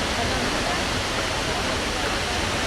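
A 180-foot waterfall in Iceland pours with clear water, giving a loud, steady, broadband roar heard from close by with no pauses.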